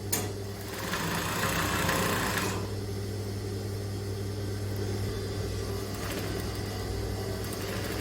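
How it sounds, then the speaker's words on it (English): A sewing machine runs steadily while stitching a straight line on a gathered skirt, giving a constant mechanical whir with a low hum. It carries on without a break and without talk. "All you need to do is just to sew straight down."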